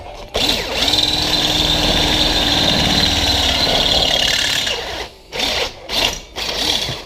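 A drill bit grinds steadily through a GM seat rail rivet from an OBS Chevy, lubricated with cutting oil: a loud, continuous motor whine and cutting drone for about five seconds, then several short bursts of drilling with pauses between.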